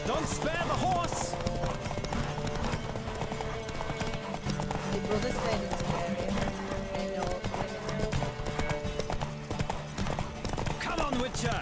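Rapid clip-clop hoofbeats of a galloping horse in The Witcher 3: Wild Hunt, loud and steady, with occasional whinnies and voices calling out over the rhythm.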